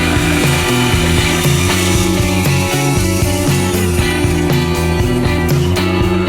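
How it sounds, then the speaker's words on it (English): A bandsaw cuts through two taped-together exotic wood boards, its loud steady motor drone overlaid with a continuous rasping cutting noise that lasts the whole time. "Let's get this over to the bandsaw."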